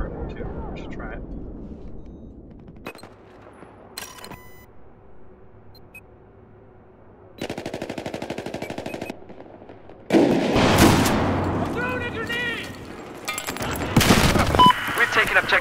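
Rifle fire in a Battlefield 4 multiplayer match, arriving in bursts of rapid shots over a constant game soundscape with beeps, growing louder and denser toward the end.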